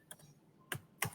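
Three quiet, crisp keystrokes on a computer keyboard as a ping command is typed, evenly spaced in a near-silent room.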